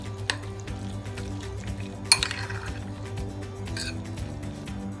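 Sauces being stirred together in a bowl for a corn cheese sandwich, with soft scraping and a few sharp clinks of a spoon against the dish over a low steady background hum.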